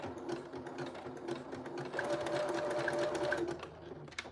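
A sewing machine hems a pair of pants, its needle chattering in a rapid steady rhythm close up, speeding slightly in the middle before slowing near the end.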